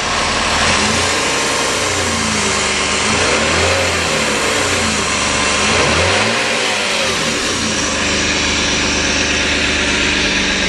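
Rebuilt Chrysler 2.7 engine in a 2002 Sebring on its first cold start of the morning, loud and close, idling with several gentle rises and falls in revs throughout.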